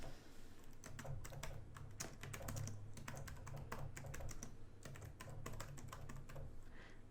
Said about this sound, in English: I want you to type in Snip and Sketch activity.